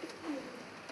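Madras pigeons in a loft giving a short, close, soft throaty coo, alone without any talking.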